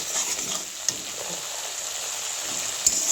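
Spice paste for prawn malai curry is stirred and fried in a pan, giving a steady close sizzle with soft scraping strokes and a couple of sharp clinks from the spoon against the pan.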